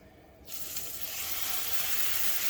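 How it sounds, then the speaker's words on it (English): Steak hits hot grease with a sudden loud burst of sizzling about half a second in, then a strong, steady hiss of searing that keeps building slightly to the end. "So we're going to go ahead and get this grease hot and sear the steak"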